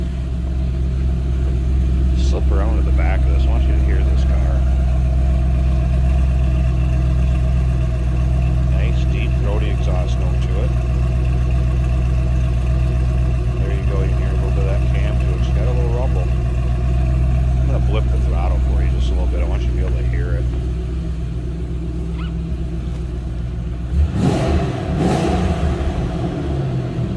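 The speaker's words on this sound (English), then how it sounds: "I want you to hear this car." A 2006 Ford Mustang GT Premium engine idles with a deep, steady rumble, close and loud, with occasional revs and faint voices over it before a sharp rev near the end.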